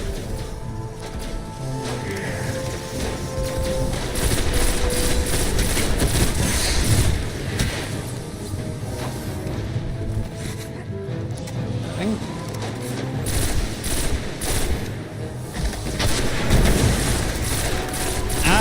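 Rocket explosion and gunfire in the video game Destiny 1 on Xbox Series X: a continuous loud barrage of shots and blasts with rumbling impacts, with a voice talking over the chaos.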